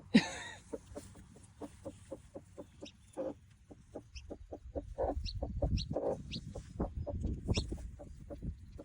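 Rapid series of tiny high peeps from a chick still inside its hatching egg, steady and close, with soft hen clucking and rustling building underneath.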